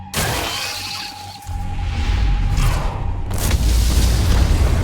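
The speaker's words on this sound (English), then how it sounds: "Looks like fireworks are going off in the ant tunnels." Explosions in underground ant tunnels from the video game Solo Leveling Arise, a heavy rumbling boom with crackling, shattering debris that builds into a sustained low roar.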